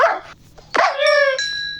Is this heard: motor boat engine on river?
no